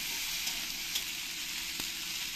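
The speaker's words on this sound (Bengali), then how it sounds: "এবার এই রসুনগুলো দিয়ে দেবো, দিয়ে ভালো করে ভেজে নিতে হবে।" Garlic fries in hot oil for kara kulambu, giving a continuous bright sizzle with a few sharp pops and crackles, close up, no voices.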